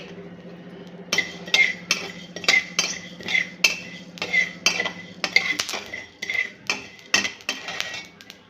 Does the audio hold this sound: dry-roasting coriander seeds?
yes